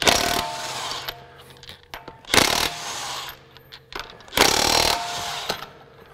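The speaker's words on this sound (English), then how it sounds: "So as soon as it's done impacting, I'm off the trigger." A Craftsman V20 brushless high-torque 1/2-inch drive impact wrench hammers in three loud, sharp bursts separated by quieter pauses, recorded close up.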